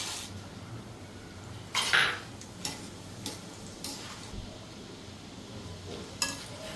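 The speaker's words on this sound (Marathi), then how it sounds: "आता डाळ्या तळून घेते." Roasted chana dal frying in oil for a puffed rice chivda, a quiet sizzle with a few sharp clicks and scrapes of a spoon against the pan, close and alone.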